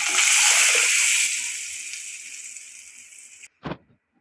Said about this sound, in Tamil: இப்போ கரைச்சி வச்ச குழம்பு ஊற்றிக்கலாம்